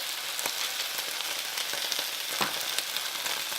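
Steady sizzling of devilled chicken being stir-fried with tomato ketchup in a hot pan, a continuous close hiss with small crackles and the occasional scrape of a toss.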